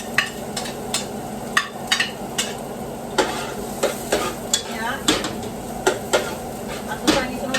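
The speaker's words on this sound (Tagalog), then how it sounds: "Nya atong isunod og isa ang sibuyas." Onion frying in a pan for a shredded beef dish, sizzling steadily while a utensil stirs and scrapes against the pan in repeated sharp clinks roughly every half second, close and clear with no talk.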